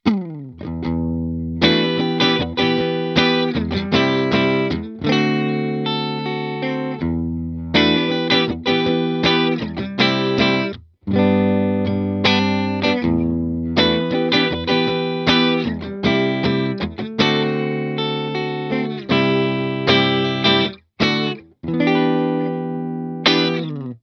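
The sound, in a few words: electric guitar through Hughes and Kettner Spirit Nano amp head, cleaner tone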